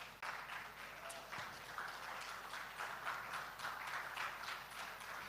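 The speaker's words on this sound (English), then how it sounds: "Can we all please give her a round of applause as she comes up to the stage?" A festival audience claps for an author walking up to the stage, a quiet, distant, steady round of applause with uneven bursts of clapping.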